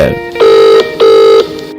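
A telephone rings loudly in two long electronic bursts separated by a short gap, close and alone with no talking over it.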